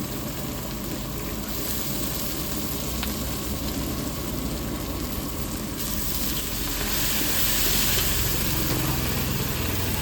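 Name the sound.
curry leaves sizzling as they are added to frying atukulu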